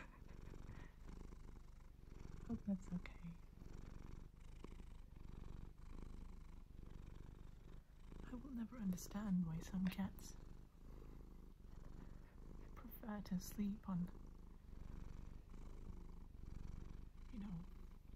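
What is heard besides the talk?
cat purring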